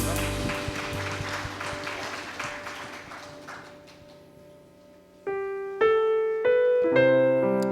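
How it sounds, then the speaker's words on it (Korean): A church congregation at Sunday worship applauds, a dense wash of clapping that fades over about five seconds before sustained organ or keyboard chords enter. "하나님께 영광의 박수 올려드립니다."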